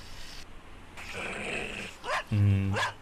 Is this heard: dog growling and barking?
yes